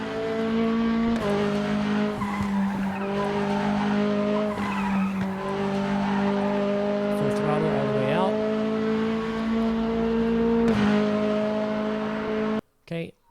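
Mazda MX-5 race car lapping Sonoma Raceway in the RaceRoom simulator, a steady droning engine note holding pitch through corners with a brief tire-squeal sweep mid-lap, then a sudden cut to silence near the end.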